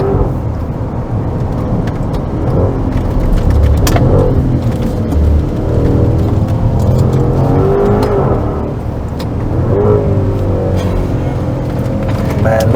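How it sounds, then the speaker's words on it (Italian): A sports SUV engine with a four-pipe exhaust and its valves open accelerates hard, a loud, close roar rising and surging in repeated revving pulls for about thirteen seconds. "la macchina comincia a cantare con piacere, e vediamo un po' come spinge questo propulsore"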